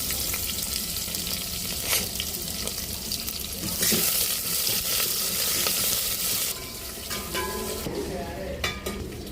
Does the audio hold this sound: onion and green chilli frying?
yes